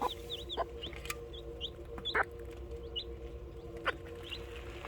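Hens cluck and chirp repeatedly, with short sharp calls over a steady farmyard background, fairly close by, among naturally hatched chicks.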